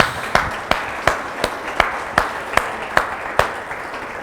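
Clapping during a Spanish-language church sermon, heard as a regular, evenly spaced series of about ten sharp claps over a low background murmur.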